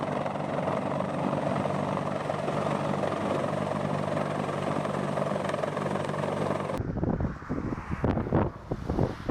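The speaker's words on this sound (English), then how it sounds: "one of the most powerful helicopters in the world, capable of lifting massive vehicles" A heavy-lift helicopter, among the most powerful in the world, flies with a loud steady rotor roar and wind noise for several seconds before the sound cuts to a rougher, gustier passage.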